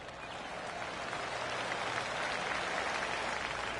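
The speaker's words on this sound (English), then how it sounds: "I can hear the golf claps around the course" A crowd gives golf claps on a course in the video game PGA 2K25, a soft, steady patter of many hands from some distance that swells slightly and continues throughout.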